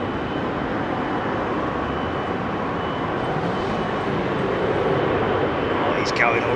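An airliner departing runway 27R at London Heathrow roars as a loud, steady broadband rumble throughout, with someone talking casually over the engine noise.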